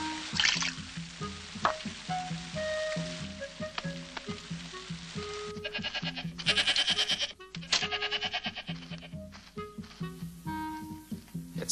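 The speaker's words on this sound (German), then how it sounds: "schon von weitem die Ziegen blöken zu hören" Goats bleating nearby in a farm setting, repeated wavering cries overlapping one another, over a constant hissing background.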